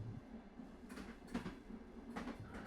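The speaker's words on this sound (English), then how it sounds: "The train makes a gentle sound, clickety-clack, clickety-clack." A train runs along its rails in soft, repeated clattering bursts over a steady low rumble, faint and fairly distant.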